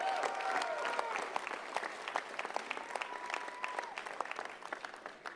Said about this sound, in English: dric Richmond, the Senior Advisor President, a big, big round of applause.